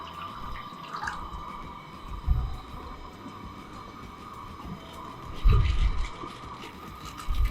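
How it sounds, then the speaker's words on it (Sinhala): Water going into a pot to boil for spicy noodles, heard as close irregular splashes and drips over a steady background hum, with two louder gushes partway through. "අපි වතුර කෝප්ප එකමාරක් වගේ දානවා"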